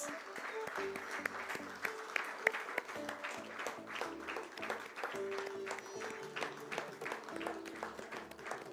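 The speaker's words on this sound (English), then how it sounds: "we're going to welcome them with a very warm round of applause" A crowd at a company stock-exchange listing ceremony gives a warm round of applause, with scattered claps over steady background music at moderate distance.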